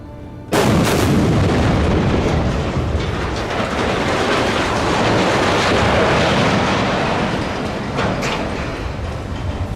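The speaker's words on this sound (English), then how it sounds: "Seconds later, boom, an explosion erupts like a bomb, blasting away the remains in a fiery shockwave." A factory structure is demolished by an explosion, a sudden loud blast that opens into a long, roaring, rumbling wash of debris and collapse sustained for several seconds before slowly easing.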